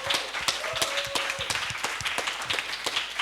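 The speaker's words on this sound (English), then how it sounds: "Let's give them a round of applause." Audience applauding hackathon winners at a Bangkok 2024 hackathon and design jam, a steady wash of many hands clapping, with sharp individual claps standing out, continuing throughout.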